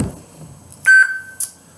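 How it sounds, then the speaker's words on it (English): A toy lightsaber gives a short, high-pitched electronic beep as it switches colour, a single sharp tone followed by a brief fainter chirp, heard alone in a quiet room. "you heard the high-pitched beep"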